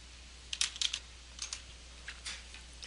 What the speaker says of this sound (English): be sure to type your entire school-issued email address as well as your password